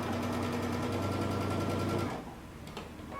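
A sewing machine stitches a tunic seam in a quick, steady mechanical patter for about two seconds, then cuts off, followed by a few soft handling clicks.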